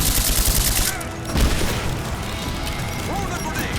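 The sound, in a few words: grenade explosion and gunfire in Rise of the Tomb Raider video game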